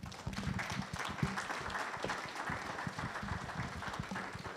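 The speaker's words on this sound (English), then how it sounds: "Please, a round of applause." A conference audience at a data forum applauds steadily after a speech, a dense wash of clapping hands that holds at an even level throughout.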